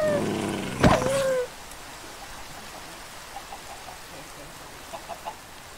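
A Minecraft wolf makes a short, loud howl-like cry near the start, followed by quiet game ambience with a few faint clicks.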